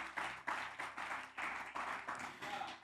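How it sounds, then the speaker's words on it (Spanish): A congregation clapping in a steady rhythmic beat, about five claps per second, continuous and moderately loud with no voices. "Denle un aplauso al Señor"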